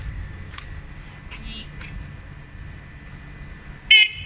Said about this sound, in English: Alright, Jen's gonna honk the horn.